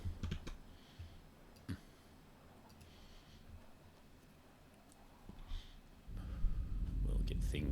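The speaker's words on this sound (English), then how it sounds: "as you could hear by the typing" Someone types on a computer keyboard, soft scattered key clicks heard faintly at a distance under a low background hum, with louder rustling near the end.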